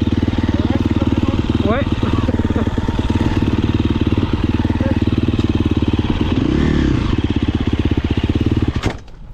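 A KTM 350 SXF dirt bike engine fires up and runs with a loud, rapid four-stroke pulse, revving briefly midway before cutting off near the end, with a short spoken word over it.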